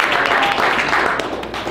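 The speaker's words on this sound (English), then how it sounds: "Now let's give a round of applause for that." Brief, loud audience applause at a business talk, a dense wash of clapping that holds steady and tapers slightly at the end.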